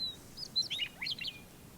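Birds chirp in a dark wooded area, a short run of quick, bright tweets and whistles at moderate distance, each call trailing off in a soft reverberant echo.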